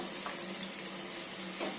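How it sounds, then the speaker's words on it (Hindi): Chopped onion frying with garlic and ginger in a pan for Rajasthani kadhi, a soft steady sizzle with faint stirring scrapes, close but quiet, with no voices. "लहसुन और अदरक थोड़े से भून गए हैं तो इसी में डाल देते हैं कटोर प्याज"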